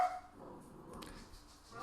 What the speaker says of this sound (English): And the dogs don't like this either